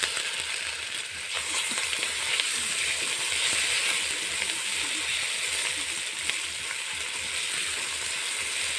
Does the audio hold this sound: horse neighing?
no